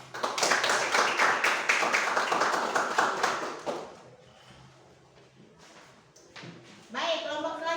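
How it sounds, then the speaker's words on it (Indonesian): A classroom group claps in a short burst of dense applause lasting a few seconds before fading out, followed by quiet room noise and some faint tapping and movement. "Mari kita berikan aplaus."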